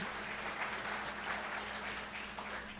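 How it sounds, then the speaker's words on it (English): A gathering of campaign volunteers clapping for themselves, a faint, even patter of many hands over a low steady hum. "Give yourselves a round of applause"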